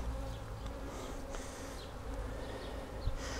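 Honeybees hum steadily in an open beehive during a hive split, a dense, continuous buzz close by with occasional individual bees droning past and a soft knock near the end.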